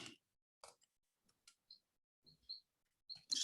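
Sparse, faint keystrokes on a computer keyboard during a Java coding interview come as scattered isolated clicks with long quiet gaps and a few quick pairs, soft and close.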